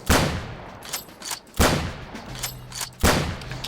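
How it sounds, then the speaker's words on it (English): Three loud gunshots crack out in quick succession during a World War II tank-combat video game, each a sharp broadband blast with a short decaying tail, spaced roughly a second and a half apart. "3 shots in quick succession."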